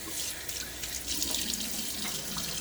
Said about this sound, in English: so a little water on my face